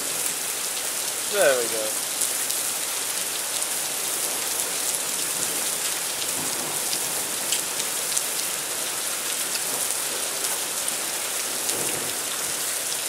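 Heavy rain pours steadily through a storm in Spain, a dense continuous hiss of drops hitting surfaces, with a brief spoken phrase early on and no distinct thunder.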